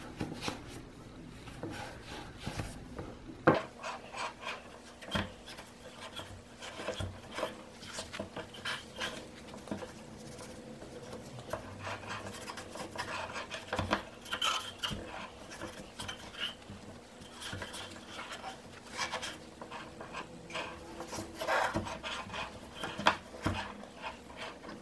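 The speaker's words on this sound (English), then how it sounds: "I'm really torturing this poor magic eraser." A magic eraser scrubs an alcohol burner in quiet, close, irregular rubbing and squeaking strokes, with occasional light metallic taps and knocks, no voices.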